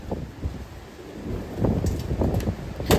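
Gusty wind buffets the microphone with low rumbling bursts that swell and ease, growing stronger toward the end.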